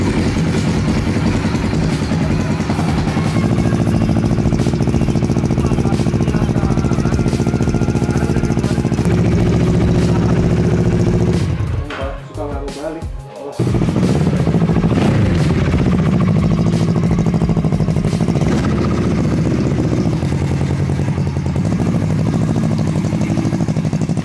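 A custom Kawasaki ER6 bobber motorcycle engine runs steadily with a loud, even droning rumble, briefly dipping and sputtering near the middle before resuming its continuous idle-like growl.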